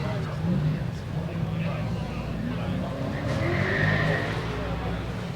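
Autocross cars racing at an outdoor car show, heard from the show grounds: a continuous engine drone with a brief tire squeal midway, under the steady murmur of nearby conversation.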